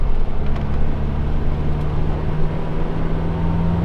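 Diesel engine of a Land Rover Discovery 300TDI running with its original boost pin, a steady, loud low drone that climbs gently in pitch as it accelerates, with no voices over it.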